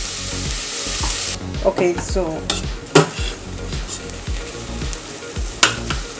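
Onions frying in a pan and pushed around with a utensil: steady close sizzle with scraping and clinking strokes, a brief spoken word near the start.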